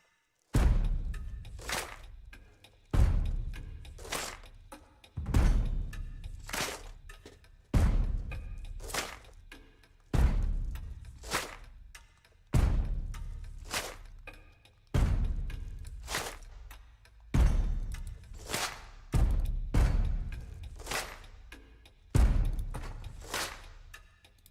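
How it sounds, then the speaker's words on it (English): A full drum and percussion mix plays alone, built on repeated heavy booming hits that swell and decay roughly every two and a half seconds, with crisp bright transients layered on top; loud, close and wordless. "all together, the drums and the percussion sounds like this."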